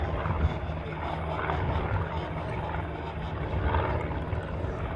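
A Japan Airlines Boeing 767 arriving from Tokyo at Honolulu gives off a steady, broad jet roar, loud and unbroken throughout with slight swells in intensity.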